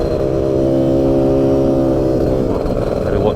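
A CASA SST 265 car engine holds around 4,500 revs, a loud, steady, close droning roar with strong low harmonics that barely varies across the moment.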